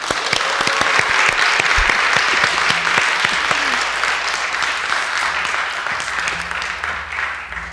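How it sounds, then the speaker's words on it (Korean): A church congregation at a Korean church service in Boston breaks into loud, sustained applause with some cheering, a dense wash of clapping that stays strong and then eases slightly toward the end. "우레와 같은 박수와 함성으로 환영하겠습니다."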